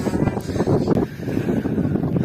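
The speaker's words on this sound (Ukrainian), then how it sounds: "вітер піднявся великий" Strong wind buffets the microphone in heavy rumbling gusts beside beehives, loud and close, filling the short moment with low roaring noise.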